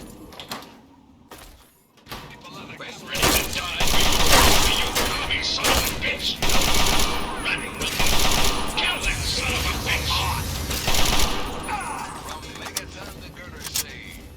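In Fallout 3, an assault rifle fires loud, rapid bursts that start after a quieter opening and then go on almost without pause, mixed with clanks from metal mechanisms and with someone talking over the shooting.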